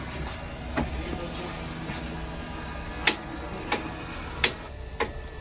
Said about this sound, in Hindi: ये उठाने की कोशिश करता है मगर ये पेपर नहीं उठा पा रहा है